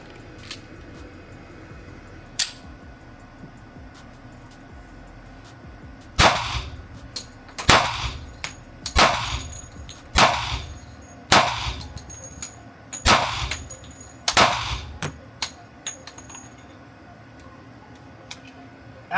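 Girsan 1911 .45 pistol being test fired: about a dozen sharp, loud shots, a couple spaced early and then a rapid string with short gaps, each ringing briefly.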